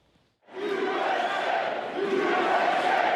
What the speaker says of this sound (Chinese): 支持者大声喊美国，官司缠身的美国前总统川普，伫民众欢呼声中上台。